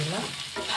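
Spoon stirring goli idli batter with a pinch of coriander in a hot pan, a short soft scraping stir over a faint sizzle, close and alone.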